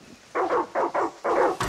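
Stray dogs in the video game Far Cry 6 letting out a rapid run of about five loud, close barks in quick succession, with no talking.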